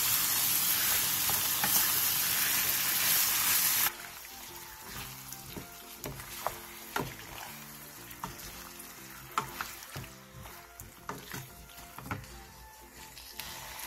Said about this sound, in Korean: 겉면이 어느 정도 익으면 중불로 줄여 고기가 완전히 익을 때까지 볶아주세요.